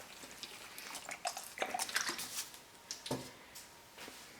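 Water trickling and dripping onto fast-draining soil around newly transplanted succulents, a faint, irregular spatter of small splashes and drips building briefly then tapering off.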